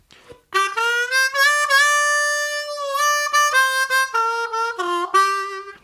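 A harmonica plays a short melodic lick of bright, reedy notes, some bent and held, others quick and separated, played solo and up close.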